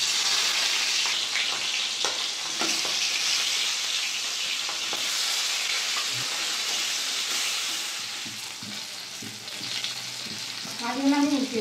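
Hilsa fish frying in hot mustard oil in a kadai on a gas stove, a steady loud sizzle and hiss with occasional spatters, close up and continuing without talk.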